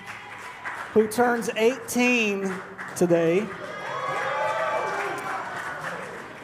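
A church congregation cheers and applauds a pastor's birthday announcement for his firstborn: someone speaks briefly, then a broad wash of crowd cheering and clapping swells and holds.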